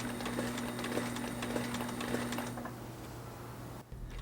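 A sewing machine with a standard presser foot stitches a seam along a leather guitar strap, a quick, close mechanical rattle that runs for a couple of seconds and then stops, leaving a faint hum.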